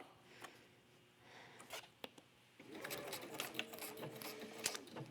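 A sewing machine runs a single straight stitch in red metallic thread down the middle of a tree-shaped pillow: faint, a few isolated clicks first, then a steady rapid whirring patter for the last few seconds.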